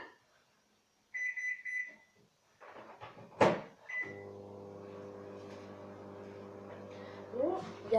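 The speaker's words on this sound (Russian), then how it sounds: "давайте поставим микроволновку на 3 минуты" Buttons beep on a microwave oven, a door thuds, and the oven starts up into a steady, close electrical hum that carries on after a voice briefly speaks.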